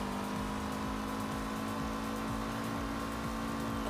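Steady engine hum from ordinary cars moving through traffic in a LEGO-themed video game city, a continuous mid-level drone with faint passing whooshes and no talking.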